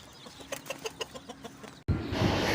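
Indonesian ayam cemani chicks give a rapid series of high, close peeps for almost two seconds, then a sudden loud rush of wind or handling noise drowns them out.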